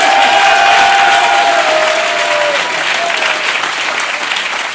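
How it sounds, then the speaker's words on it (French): Audience applause washes through continuously as a dense, loud clatter of clapping, easing only slightly as it goes on, with a faint thin tone sliding through it near the start. "c'est des mono-applaudissements"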